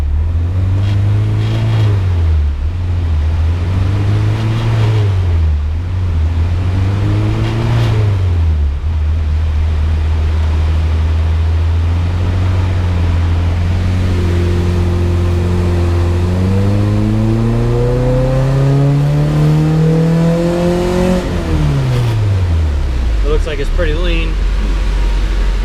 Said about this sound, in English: Just gonna make a short run without VTEC on.